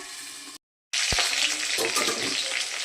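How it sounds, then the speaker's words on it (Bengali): Large pieces of fish fry in hot oil, giving a dense, loud, continuous sizzle that cuts out abruptly for a moment and then surges back just as strongly. "আর মাছটা আমার ভাজা চলছে।"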